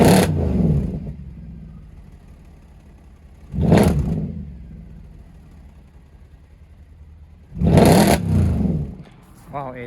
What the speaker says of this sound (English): I can already hear it's burpling ever so slightly at idle.